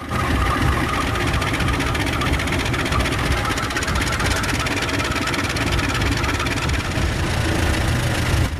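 The diesel engine of a CC201 locomotive in a train video game idles as a loud, continuous low rumble with an even vibrating texture, unchanging throughout and with no voices.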